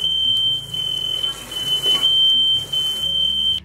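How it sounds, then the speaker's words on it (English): A smoke detector sounds a continuous shrill, high-pitched tone close by, set off by searing a chuck roast on the stove, with kitchen sizzling and faint background noise beneath it. "possibly set off your smoke detector like it did"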